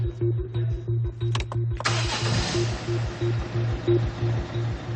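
Car engine with a broken turbo cranking and starting inside a garage: a rapid, rhythmic starter whir and thumping crank, then the engine catches with a loud rough burst and keeps running with a pulsing, uneven idle.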